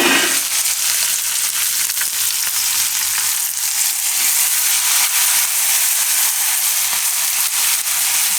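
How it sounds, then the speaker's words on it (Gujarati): Green chillies sizzle and fry steadily in hot oil with bay leaf, curry leaves and asafoetida, a loud, even crackle with no talk. "થોડીક વાર મરચાંના મસળી લેવાના તેલમાં"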